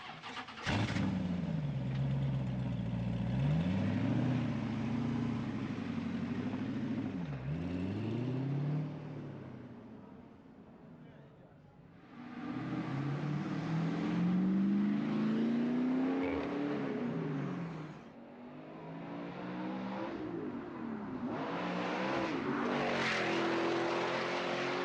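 A lightweight sports car engine revs up and drives past, loud and near, its pitch climbing and dropping through several gear changes, easing off midway before surging again, with no talking.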